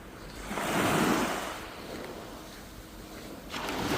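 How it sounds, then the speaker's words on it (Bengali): Ocean waves surge onto a cold Canadian beach, a broad roaring wash that swells and fades before another breaker rushes in close by, with no voices. "এই যে সমুদ্রের যে গর্জন, সমুদ্রের সাউন্ড অসাধারণ।"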